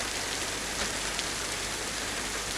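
Steady rain pours in the survival video game DayZ, a dense and even hiss that stays constant and close without pause.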